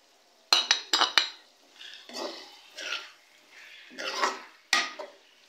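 A metal spoon clinks and scrapes in a pan as turmeric, salt and ground coriander are mixed into chicken for bhuna chicken, with a few sharp clanks followed by softer stirring scrapes, close and alone.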